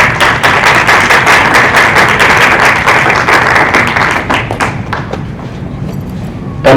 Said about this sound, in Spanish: a quien también le recibimos con fuerte voto de aplausos